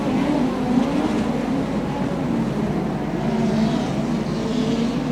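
Midget speedcars race around the Archerfield dirt track in a 50-lap A-Main, their engines a continuous, throaty roar with rising and falling revs as the pack circles, heard from the stands.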